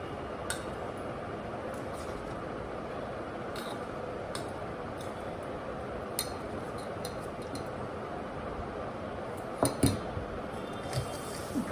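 Mango pickle pieces being mixed by hand with salt in a bowl, a faint steady wet squish and rustle with occasional light clinks of the container, and no voices.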